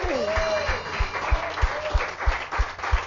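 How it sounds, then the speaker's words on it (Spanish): A church congregation claps for the Lord in a steady rhythmic beat, loud and close, after a Spanish-language sermon, with voices and a held musical tone underneath. "Levanta un aplauso al Señor."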